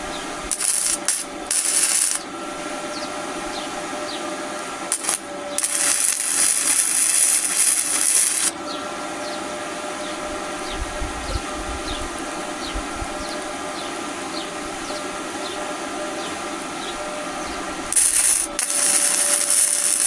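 Flux-core semi-automatic welder running at a minimum 40 amps, giving an intermittent loud crackling hiss in several bursts separated by quieter stretches.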